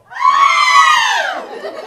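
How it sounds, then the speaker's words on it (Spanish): A group of girls lets out a single high, sustained scream on cue, loud and close, lasting just over a second before trailing off. "¡Chicas, un grito!"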